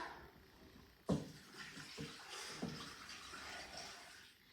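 Tap water runs steadily into a sink while cryovac-packed bones are rinsed for bone broth, with a brief splash or clunk near the start and a soft continuous flow after.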